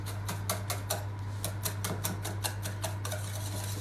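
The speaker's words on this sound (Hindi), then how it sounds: "अभी मैं क्या करूंगा कि जो बटर था और एग था, I will mix it well." Butter and egg are whisked together in a bowl, giving a quick, regular series of clinking utensil strikes against the bowl, close and fairly soft over a constant low hum.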